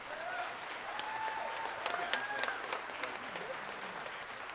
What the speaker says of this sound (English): Yep, you can applaud for that for sure.